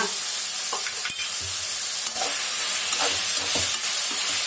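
Chicken liver with turmeric and salt fries in a pan, a loud continuous sizzle close by, broken by scraping stirs and clinks of a utensil.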